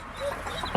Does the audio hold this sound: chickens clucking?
yes